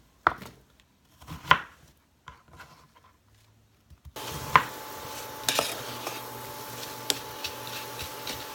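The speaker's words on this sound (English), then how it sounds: "I'm just going to go ahead and just chop these into smaller pieces." Knife chopping apple pieces on a board for Amish fried pies, a few sharp isolated strokes early on, then a steadier background hum with scattered faint knocks later.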